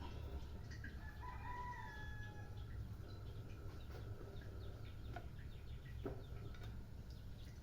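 A rooster crows faintly in the distance on a rural province morning, with a couple of drawn-out calls and a few clucks over a low steady background rumble.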